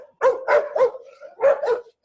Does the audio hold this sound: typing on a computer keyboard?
no